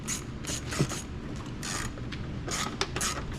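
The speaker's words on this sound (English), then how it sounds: "now the clamps are lined up again with our 5/16 ratchet. We'll go ahead and tighten up each clamp" Repeated ratcheting of a 5/16 ratchet tightening hose clamps on an International 454 diesel tractor, a series of short, close, bright clicking bursts in an uneven rhythm with no talk.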